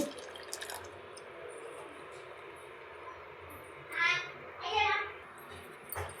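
Ground ginger, mint and coriander paste for pani puri water is strained, giving faint, steady trickling and dripping with two brief louder splashy bursts near the end.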